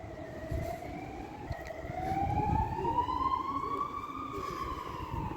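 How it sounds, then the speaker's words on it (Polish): A fire engine siren in Japan wails with slowly rising pitch, growing louder then easing as it drives past over rumbling traffic noise on a strong-wind day. "O, tam straż pożarna właśnie jechała."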